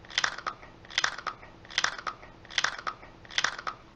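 Doritos Nacho tortilla chips crunch in five evenly spaced bursts of loud, close biting and chewing, each bite a sharp crackle about a second apart, with no talk.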